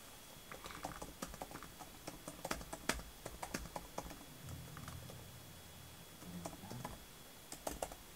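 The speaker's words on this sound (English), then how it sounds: "I need to go to like another thing so I can start typing." Typing on an Apple Magic Keyboard, with quiet, close, irregular key clicks that come in short bursts over a low room hum.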